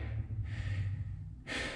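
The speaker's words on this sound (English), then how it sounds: "I start taking in more oxygen and breathing in a little bit harder." Heavy, close breathing from someone moving quickly through a tunnel inside silos, with loud rasping inhales and exhales in a steady cycle and a sharp gasp near the end.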